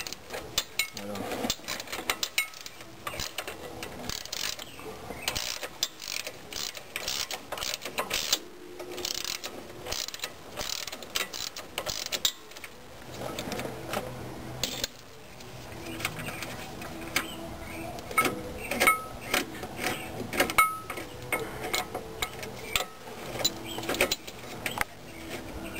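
A wrench clicks in irregular mechanical bursts during a shock absorber change on a truck, heard close and fairly quiet with pauses between runs of clicking.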